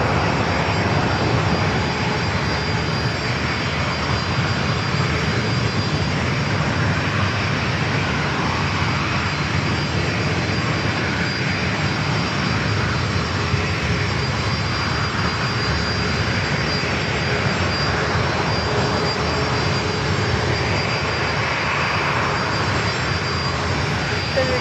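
Steady, loud jet roar of a Southwest Airlines Boeing 737-800 at San Diego airport, a continuous broadband rumble holding at full strength throughout without a break.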